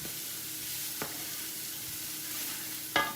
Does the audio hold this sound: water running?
no